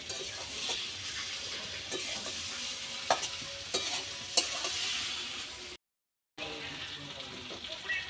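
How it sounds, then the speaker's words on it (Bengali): Fried cauliflower, potato and spices sizzle in a pan while being stirred, a steady hiss broken by scraping and clinking strokes, briefly cutting out before the frying noise resumes. "এবার দিয়ে দেবো ভেজে রাখা ফুলকপি আর আলু। এর সাথে আমি আবার একটু মশলাটা একটু কষিয়ে নেব।"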